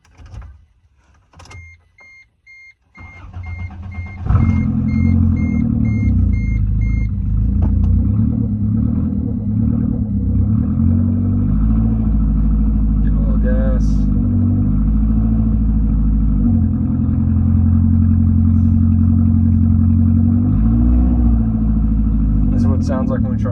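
1988–1992 Toyota Corolla with a failing A131L automatic transmission starting up: a few clicks and a short crank, then the engine catches into a steady loud idle rumble that runs on continuously, with a voice speaking briefly over it.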